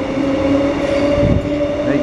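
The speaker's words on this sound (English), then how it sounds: "There goes the train to Ipswich." A train rolls past on the newly opened Kippa-Ring line in Brisbane, with a loud, steady rumble and a sustained tonal whine from the wheels, close by throughout.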